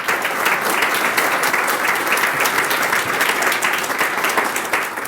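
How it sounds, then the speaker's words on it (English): Crowd at an interfaith MLK celebration breakfast gives students a dense, steady round of applause, loud and continuous throughout. "I want to definitely give a round of applause for those students."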